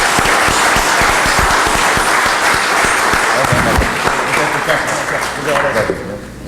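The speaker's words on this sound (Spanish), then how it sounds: "nosotros vamos a despedir a Martín con un fuerte aplauso" Audience at a mining industry Thursday talk event applauding, a loud sustained burst of clapping from a crowd that fades slightly toward the end.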